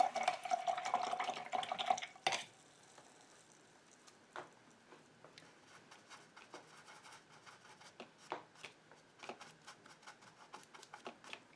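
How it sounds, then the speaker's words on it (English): A paintbrush is rinsed in a water container with quiet, close swishing, a short burst of splashing, then soft intermittent scrubbing and tapping against the container. "let's get that brush rinsed out"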